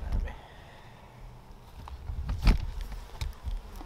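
Honeybees buzz around an open, healthy overwintered hive in early spring, a steady low drone with sharper passes of individual bees close by, faint and continuous throughout.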